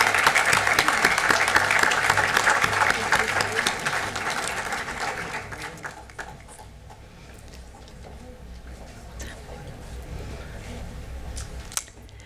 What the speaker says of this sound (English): one more round of applause for all our new inductees, all of our members, and our honorary members